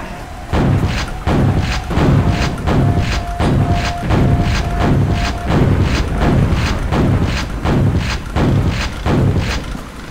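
Heavy, booming gunfire in the shooter game Quake, with HD mods, pounds in a steady run of loud thudding shots for the full stretch, roughly every half second, with no talking.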